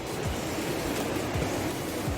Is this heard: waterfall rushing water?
yes